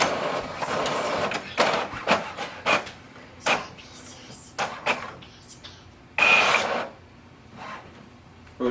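An HP OfficeJet Pro 9130e printer prints a test page in a run of short mechanical whirs and clunks, with a longer loud feed burst near the end, close and without talk.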